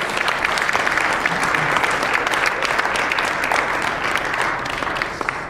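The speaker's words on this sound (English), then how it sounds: "the more you applaud, the deeper they go" An audience applauds at a comedy hypnotist show in a hot rec center in Center, North Dakota, a thick, sustained roar of clapping that holds steady and tapers slightly at the end.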